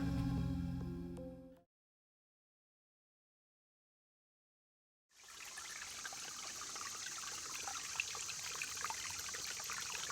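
Brief sound at the start, then total silence, followed by a steady trickle of flowing water that continues evenly to the end.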